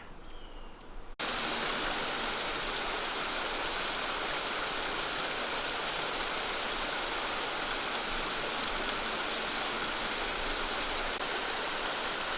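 Steady, dense roar of Cookeville City Lake Falls, broadband and continuous, close by, after a brief quieter moment at the start.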